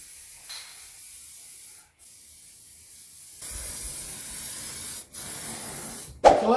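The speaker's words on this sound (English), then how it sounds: "We're going to use wax oil or wax spray, some form of amber stuff." An aerosol can of wax spray hisses in short sprays, followed by a longer steady spray, close up with a brief clatter at the end.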